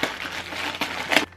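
Plastic packaging being worked open for a clothing try-on haul, a close, continuous crinkling and crushing with a louder crackle near the end before it stops.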